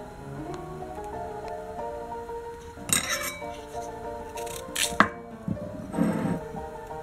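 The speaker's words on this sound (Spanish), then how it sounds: "Hemos pelado las patatas. Y ahora la vamos a cortar en trocitos." A knife cuts peeled potatoes into small pieces in a kitchen, giving a few sharp chops and clinks against a board or dish among quieter handling noises, with no speech.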